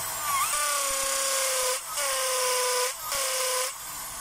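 DeWalt DWD024 half-inch drill running in hammer mode, a loud, steady high-pitched whine with a harsh hiss, held in three long bursts separated by brief pauses.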